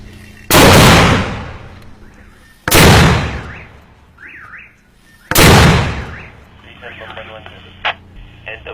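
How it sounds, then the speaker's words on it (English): Military mortar fired by Marines into enemy territory during the battle against ISIS in Marawi: three loud, booming blasts spaced a few seconds apart, with crackling radio voices between them. "they're just about to send this mortar into enemy territory"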